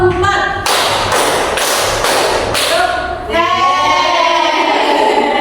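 A classroom full of students clap in unison during a rhythmic counting game: a few loud, regular group claps at close range, followed by a teacher's voice and students' chatter.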